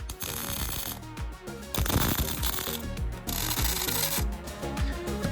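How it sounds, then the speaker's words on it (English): A spool is tack welded onto a sprocket in a Hayabusa engine swap on a JDM microvan, with loud crackling buzzes in short bursts broken by brief gaps, close to the mic. "So I'm going to proceed with tacking that spool in place."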